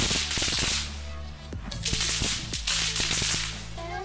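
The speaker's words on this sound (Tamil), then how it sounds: "அவன் டயர் வரையும் அவங்க வெடிச்சுக்கிட்டே போகுது." Pop pop snap crackers bursting under a car tire as it rolls over them, a rapid string of sharp, loud cracks and snaps coming in dense bursts with short pauses throughout.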